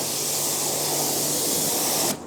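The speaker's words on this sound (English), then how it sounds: "So Richie is out here washing away." Pressure washer spraying down an OPICO skid steer outdoors, a steady loud hiss of water jet running continuously for about two seconds before cutting off abruptly, with no voices.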